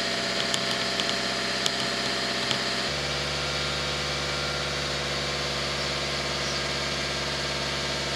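A car engine warming toward operating temperature idles steadily with a constant low rumble and hum, some faint clicks early on before the tone settles.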